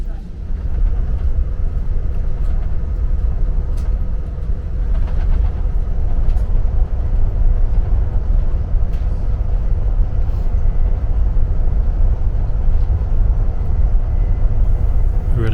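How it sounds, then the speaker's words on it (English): Interior rumble of an Acela high-speed passenger train running on the track between New York and Washington, a loud, steady low roar with faint rattles and clicks throughout. Speech can be heard under the noise. "This is the fastest passenger train in the United States, and it's quite stable."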